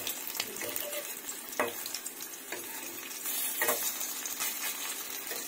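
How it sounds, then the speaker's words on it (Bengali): Lentil fritters (bora) frying in mustard oil in a pan, a steady crackling sizzle with occasional scrapes and stirring knocks from a utensil, close and moderately quiet, with no voices. "আর এটা কিন্তু আপনারা সরষের তেলে ভাজারই চেষ্টা করবেন"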